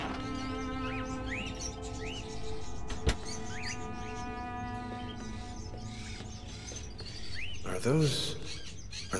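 Caged birds in a creepy old house in the game Fahrenheit: Indigo Prophecy chirp in repeated short rising calls over a humming room tone, with a louder burst of calls near the end.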